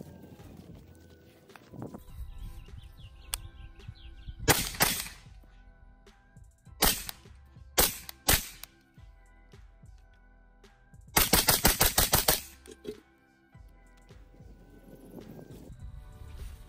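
Gunshots strike an Ace Link Armor stand-alone plate, loud sharp reports in a few scattered single shots and then a rapid burst of about eight, with quieter handling noises between.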